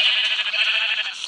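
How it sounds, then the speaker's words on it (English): A Minecraft sheep gives one short, bright bleat that wavers slightly and stands out plainly on its own. "I just killed a sheep."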